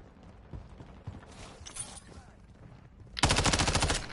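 Magazine swap in Call of Duty Modern Warfare 3, heard as a few light mechanical clicks before a burst of rapid gunfire that rises loud near the end.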